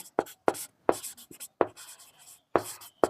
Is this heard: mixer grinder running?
no